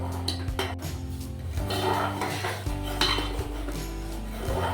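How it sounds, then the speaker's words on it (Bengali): A spoon scrapes and clinks against a metal pot as rice pudding cooking in milk is stirred, steady and fairly faint with soft metallic knocks. "পায়েসটাকে বারবার নাড়াতে হবে, না হলে কিন্তু ওই চাল তলে বসে যাবে।"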